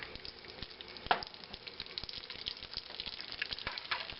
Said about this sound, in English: The pan is getting hot now, and put about 2 pats of butter in it.